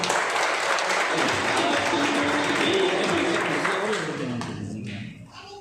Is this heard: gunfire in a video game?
no